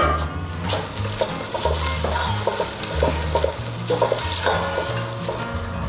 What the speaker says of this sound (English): I am going to toss my washed rice into the pot. Give it a nice big stir.